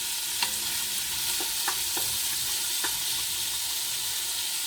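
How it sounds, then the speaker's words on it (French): Lardons browning together with onions in a pan give a steady, close hiss of frying fat, with a few faint clicks and taps rising above the sizzle. "Je mets les lardons que je fais revenir avec."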